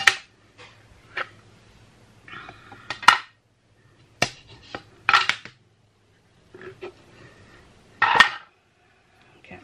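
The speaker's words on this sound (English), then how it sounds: "So I'm just going to take my clips off." Plastic clips snapped off a soap mold while making a Christmas holiday soap, a handful of sharp clicks and clacks spaced out irregularly over nearly ten seconds, close by, with a little quiet speech between them.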